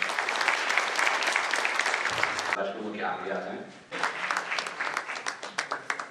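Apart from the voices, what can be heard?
loud applause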